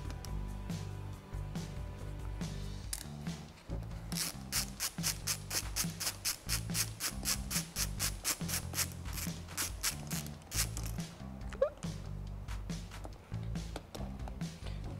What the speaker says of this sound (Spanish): Entonces tomamos el rache de 3 octavos con una extensión y una copa número 10.